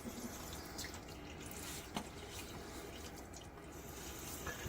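A bathroom tap running steadily while the face is wetted for a wet shave, a quiet, continuous hiss of water with a few faint splashes, no talking.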